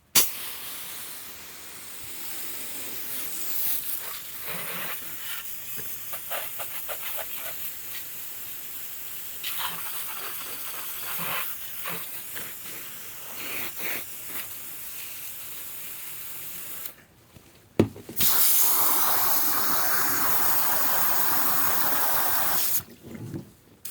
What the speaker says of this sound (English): we're gonna hose down this thing since I didn't get to do it in North Carolina